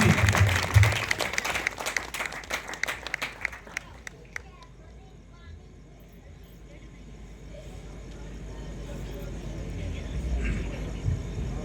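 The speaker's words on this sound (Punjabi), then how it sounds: "ਤਾੜੀਆਂ ਮਾਰ ਦਿਓ ਇਹਨਾਂ ਵਾਸਤੇ" An audience claps in applause at a devotional gathering, a dense burst of clapping for the first few seconds that thins out and fades into a low murmur and rumble.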